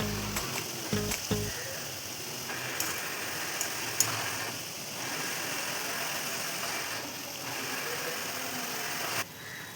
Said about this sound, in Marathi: सारखं सारखं आलटी पलटी करून असं छान अशा तळून काढायच्यात